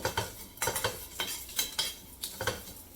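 Cooked rice being mixed with turmeric powder for a Navaratri prasad, heard as a run of quiet scraping and stirring strokes against a vessel, repeating in uneven bursts with no voices.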